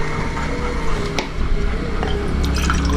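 Water poured into a drinking glass, a steady trickling and splashing fill running through the whole moment at close range with no talk.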